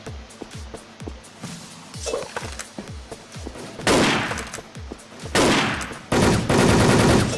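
Gunfire in the online shooter Wolfteam: a quick run of sharp single shots, then loud sustained bursts of automatic fire, close and punchy, broken by short gaps.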